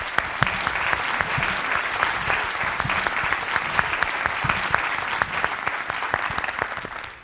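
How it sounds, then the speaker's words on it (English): A conference audience at a developer event in Thessaloniki claps warmly, with dense, sustained applause and a few sharper claps near the front, no voices on top. "Please give him a really warm round of applause, because he deserves it."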